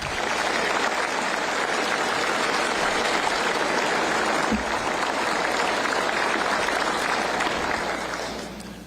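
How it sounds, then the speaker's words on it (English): A large audience at a governor's State of the State address applauds police and firefighters, a sustained, dense round of clapping holding steady for several seconds before tapering slightly at the end. "One more round of applause for these heroes."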